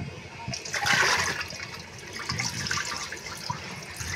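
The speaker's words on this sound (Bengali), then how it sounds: "এইটা এখন ডালগুলাকে ধুয়ে নিচ্ছি।" Lentils being rinsed and washed in water in a home kitchen, with continuous splashing and running water near and fairly loud, a stronger swish early on, and no talk.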